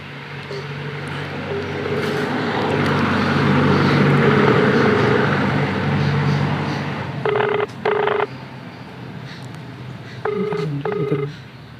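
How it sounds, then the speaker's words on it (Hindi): A telephone call is dialed from outdoors at a village government primary school: two short bursts of keypad tones sound over a steady broad background rumble and hum. "उनके पति जी के यहाँ फ़ोन लगा रहे हैं हम"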